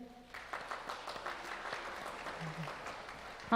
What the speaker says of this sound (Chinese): 大家这些筹备小组一个 鼓励的掌声